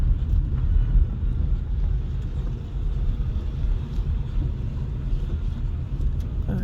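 A car driven by a son on his first time behind the wheel gives a steady low interior rumble of engine and road noise, continuous and even, with no talk.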